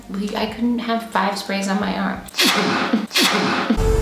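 A sharp sneeze bursts out amid ongoing conversation, loud and close, while people keep talking around it.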